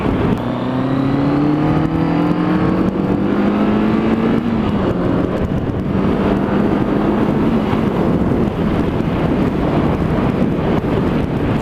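A 1981 Yamaha XJ650 inline-four motorcycle on the move, its engine note climbing steadily and then dropping at a gear change, with a constant roar of wind over it and no voices.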